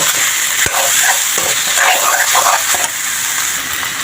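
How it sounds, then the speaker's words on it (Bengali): Turmeric, chili powder and salt fry in a pan for ghugni and chatpati while being stirred, giving a steady, close sizzle with a few scraping strokes of the spoon. "এখন সব মশলাগুলো ভালো করে কষিয়ে নেব"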